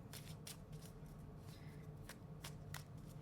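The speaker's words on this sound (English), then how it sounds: "Just shuffling my cards a bit." Tarot cards being shuffled at close range, a series of soft papery riffles and flicks coming in uneven bursts over a faint steady background hum.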